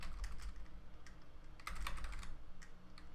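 Keys on a computer keyboard are struck in quick, faint, irregular taps as a command is typed, with no voices.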